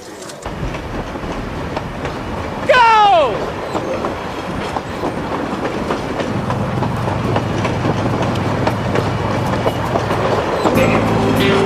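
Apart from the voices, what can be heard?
speeding train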